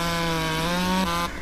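A chainsaw in the Landwirtschafts-Simulator 17 farming game buzzes steadily while cutting trees, a loud sustained engine drone with bright harmonics that shifts pitch briefly near the end before cutting off.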